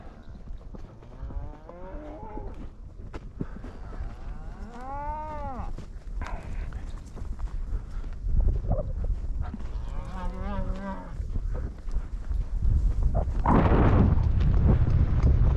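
Cattle on a cattle drive moo repeatedly, several drawn-out calls from different animals, some near and loud, over rising background rumble and movement noise.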